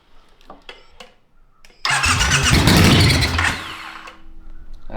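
A custom bobber motorcycle engine cranks and catches abruptly, then settles into a loud, steady idle close by after a few sharp clicks and knocks of tools.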